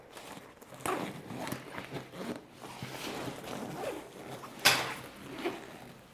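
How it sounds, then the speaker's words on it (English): Zipper on a backpack opened to detach its packing cube, a few quiet scratchy pulls close up with soft handling rustles around them. "Right here, there's a zipper."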